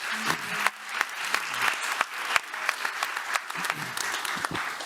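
Audience at a human rights conference on Belarus applauds its panelists, a moderate round of clapping with sharp individual claps standing out, heard from within the room and lasting the whole stretch.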